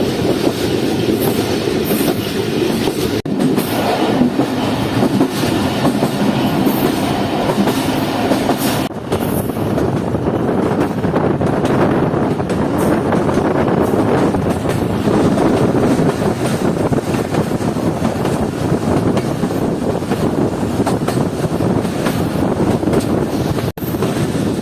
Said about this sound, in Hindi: हमारी ट्रेन पहुँच रही है डुमेल रेलवे स्टेशन पर